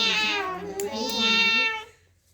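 A voice imitates a cat's meow in a school activity, one drawn-out, wavering mewing call with a rising then falling pitch, close and clear, fading out at the end.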